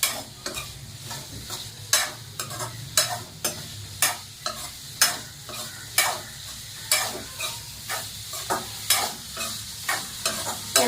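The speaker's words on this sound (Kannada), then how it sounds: "ಅಲ್ಲಿವರೆಗೂ ನಾವು ಸ್ವಲ್ಪ ಆಯಿಲಲ್ಲಿ ಫ್ರೈ ಮಾಡಬೇಕು." Paneer frying in oil with turmeric and chili powder for restaurant-style palak paneer, a ladle scraping and stirring the pan in a steady rhythm of roughly one stroke per half second over a constant sizzle.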